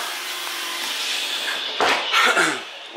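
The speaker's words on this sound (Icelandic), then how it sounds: "Inn í herberginu hjá Benjamin er hún að ryksuga." A vacuum cleaner runs with a steady whir while a child's bedroom is cleaned, and there are a few louder bumps and scraping surges as the nozzle knocks against things near the end.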